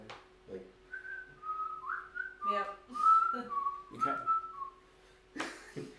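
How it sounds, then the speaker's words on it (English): A man whistles a wandering tune while walking, clear sliding notes in short phrases broken by footsteps and rustling, close and moderately loud, with a couple of brief spoken words between. "I'm gonna start whistling as I walk up to the guy"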